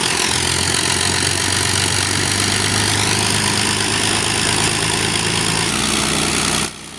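Lancaster bomber engines running during a taxi run at East Kirkby airfield, a loud, steady droning roar that holds for several seconds before cutting off abruptly near the end.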